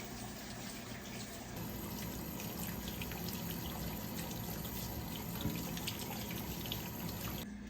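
Muddy beets are rinsed one at a time under a running kitchen tap, giving a continuous, close, even gush of water with no pauses.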